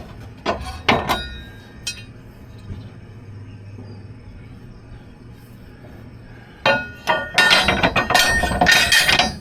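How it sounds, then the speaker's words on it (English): Metal weights are lifted and set onto a zero-turn mower's hitch, a few sharp clanks near the start, a quiet stretch, then a rapid cluster of metallic clinks and knocks near the end. "Let's go ahead and put the weights on and then we'll put the carriage bolt in."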